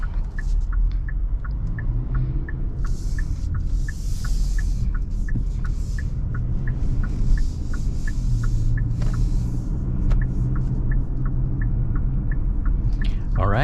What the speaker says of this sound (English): driving this 2023 Kia Sportage drives nice and smooth